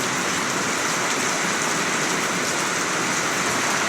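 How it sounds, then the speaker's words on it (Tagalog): Heavy rain pours steadily, a dense, continuous hiss of water drumming on surfaces with no pauses. "Grabe yung lakas ng ulan."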